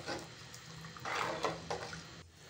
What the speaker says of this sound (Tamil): நம்ம கரைச்சி வச்ச அந்த புளி தண்ணி மிளகாத்தூளோடு சேர்த்து ஊற்றி நல்லா கொதிக்க வைப்போம்.